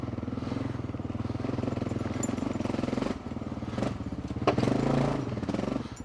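Kawasaki KLR 650 motorcycle engine rumbling close on an off-road trail, steady throbbing with a few thuds and clatter from rough ground, brief revving near the end.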